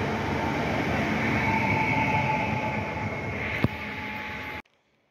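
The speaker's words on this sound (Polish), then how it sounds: "Jedzie pociąg Nikifor" A passenger train passes on the railway near Tarnów, a steady rumbling roar of wheels and cars with a brief sharp click near the end before the sound cuts off abruptly.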